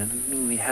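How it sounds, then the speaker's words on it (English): Cicadas call from the African bush at dusk on a sunset safari, a steady high-pitched drone that carries through the whole moment while someone talks over it. "I want you to listen to the cicadas calling in the back"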